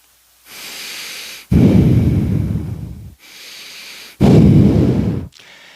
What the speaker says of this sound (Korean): 계속 이러면서 숨 쉬면은요 정신병 걸릴걸요.